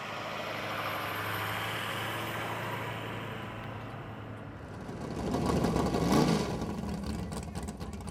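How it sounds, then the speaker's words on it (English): Classic drag racing cars rumble at a dragway, a steady engine drone that swells louder midway as one revs up, heard from a moderate distance without talk. "These cars make a lot of noise."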